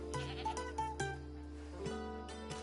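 Several short goat bleats from a game scene, sounding at intervals over a steady low background hum, fairly close and moderately loud.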